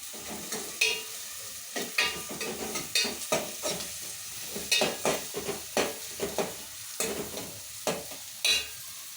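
Onions and green chillies fry in a pan for a leafy-greens curry, with a steady sizzle broken by repeated scraping stirs of a spoon against the pan, close and fairly loud throughout.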